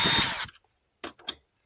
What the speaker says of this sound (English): So pull these screws out.